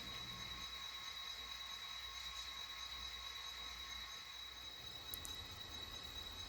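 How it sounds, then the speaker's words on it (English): Santa Fe passenger train, engine number 40 hauling the Brazos Valley Special, easing into the Stephenville passenger station, a steady low rumble with faint wheel squeal and a brief high squeal near the end. "Engine number 40 eases the Brazos Valley Special into Stephenville's passenger station."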